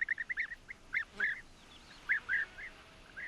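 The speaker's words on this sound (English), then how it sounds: "It's a Merops apiaster," European bee-eaters near beehives in Morocco give short, rolling chirps in quick bursts, a few calls early then a pause and two more near the end, clear but moderately distant over faint background.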